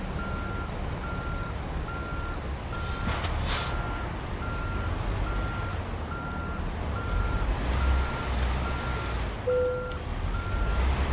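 In American Truck Simulator, a truck backs a trailer while a regular reversing beeper repeats evenly over a low engine rumble, with a brief air-brake hiss partway through.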